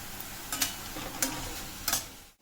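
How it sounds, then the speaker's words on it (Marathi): Finely chopped onion with salt frying in a pan, a faint sizzle broken by three evenly spaced scraping stirs of a spoon, close by and with no talking. "कांदा आपला आता भाजत आलेला आहे."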